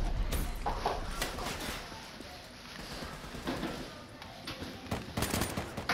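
Rapid automatic gunfire in Call of Duty Black Ops 3, dense bursts of shots layered with other weapons and clattering game effects, loud and close throughout.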